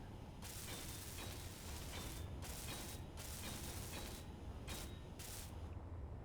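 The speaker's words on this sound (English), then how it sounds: "I'm gonna have to weld some of this up. We're just gonna do it real quick by hand." A hand welder at work in the Space Engineers game, giving off a steady, loud grinding hiss that stops briefly several times before carrying on, with no talking.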